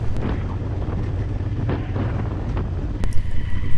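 Strong wind buffets a mountain track on the Route des Grandes Alpes, a loud, rumbling, gusting roar that swells near the end, with no voices.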